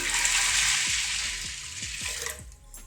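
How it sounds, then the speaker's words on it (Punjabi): Three to four glasses of water are poured into a pressure cooker of kidney beans and cinnamon for a dhaba-style rajma curry, a steady rushing splash for a couple of seconds that then cuts off. "ਇੱਥੇ ਮੈਂ ਪਾਣੀ ਪਾਤਾ ਸੀ 3-4 ਗਲਾਸ"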